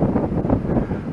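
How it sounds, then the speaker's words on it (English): Loud wind buffets the microphone in rough, rumbling gusts, with no voices and no other clear sounds. "It's blowing pretty hard."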